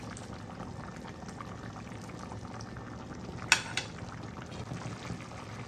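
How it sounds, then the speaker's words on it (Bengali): Dal and rice khichuri with mixed vegetables and Malabar spinach simmers under a lid, giving a soft, steady bubbling with a couple of faint clinks. "এখন আমি ঢাকনা দিয়ে আরও কিছুক্ষণ জাল করে নিচ্ছি যতক্ষণ ডাল চালটা না পুরোপুরি সেদ্ধ হচ্ছে।"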